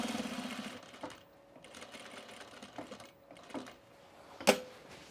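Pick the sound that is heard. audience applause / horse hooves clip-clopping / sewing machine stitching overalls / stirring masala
sewing machine stitching overalls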